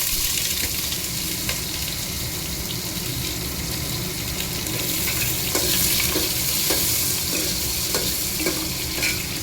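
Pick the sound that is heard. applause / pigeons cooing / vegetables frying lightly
vegetables frying lightly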